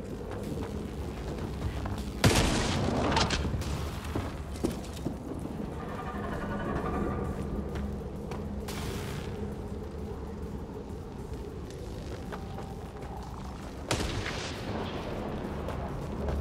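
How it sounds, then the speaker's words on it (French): Gunfire at a fuel cell in the video game Mass Effect Andromeda, with a few loud blasts and booms over a rumbling background, the sharpest near the start and later on, with muffled voices in between. "Tirez sur cette cellule de carburant."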